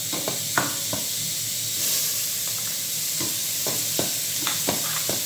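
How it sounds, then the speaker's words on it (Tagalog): Garlic and onion sauté in hot oil in a pan, a constant close sizzle broken by sharp stirring scrapes and taps, no voices. "Saka natin nilagay yung aho, bawang, saka sibuyas."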